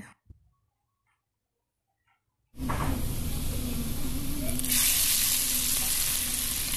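A tempering of dried chillies and chopped garlic fried golden, then poured into mixed vegetables: near silence, then a sudden loud hissing sizzle that holds steady and brightens further along, with no speech.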